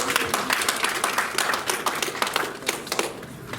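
An audience at a Santa Toy Run gathering breaks into loud, sustained applause, a dense crackle of many hands clapping close by without a break.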